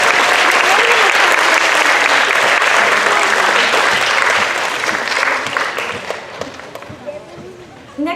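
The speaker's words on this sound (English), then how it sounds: "One more round of applause for the Blackbird Guys" Audience at a lower school certificate awards and 4th grade promotion ceremony clapping loudly for the Blackbird Guys, the applause thinning and fading over the second half while voices carry through it.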